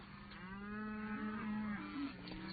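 Cattle mooing on open ranch land, a long sustained low bellow with a rising, wavering pitch toward the end, close and loud with no talking.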